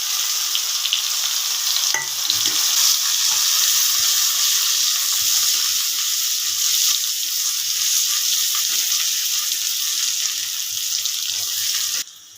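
Cumin seeds and chopped onion frying in hot oil give a steady, close, loud sizzle that runs unbroken to the end, with a few stirring clatters.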